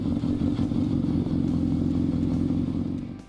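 Suzuki B-King muscle bike engine running steadily, a loud continuous low throb with a slight tapering at the end, heard alone with no talk.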